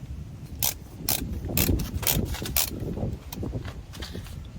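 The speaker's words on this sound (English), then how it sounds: "I always loosen back up the torque wrench" Bolts on a TeraFlex steering stabilizer for a Jeep JK being tightened with a torque wrench, giving a series of close, sharp ratcheting clicks over a low background hum.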